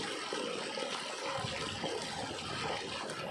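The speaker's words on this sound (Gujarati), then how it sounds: "હવે આ પાણી જ્યાં સુધી પાછી મોટરો ચાલુ નહીં થાય ને ત્યાં સુધી પાણી આપણી વાયમાંથી નીકળ્યા કરશે" Water gushing steadily from a farm well pipe in an orchard, a continuous rushing, splashing flow heard up close without talk.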